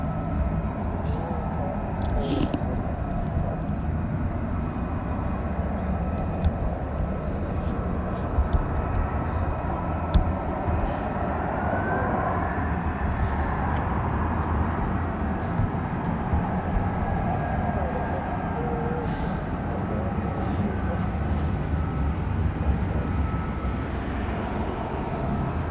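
F-35B stealth fighter jets taxi at an RAF air base with a continuous, heavy engine roar and rumble that holds steady for the whole stretch, with no speech over it.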